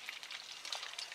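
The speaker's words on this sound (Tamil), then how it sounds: "மழை வந்துருச்சு." Rain starting to fall: a faint, even hiss of fine drops pattering steadily, soft and distant, with no voices.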